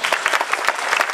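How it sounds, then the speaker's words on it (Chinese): An audience at a university's 47th anniversary ceremony breaks into a short, brisk burst of dense clapping, close and lively, lasting just over a second. "大家给他热烈鼓掌。"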